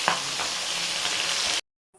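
Shankar fish (stingray) pieces frying in hot oil in a home kitchen, a dense, steady sizzle with crackling at close range that cuts off sharply near the end, then near silence.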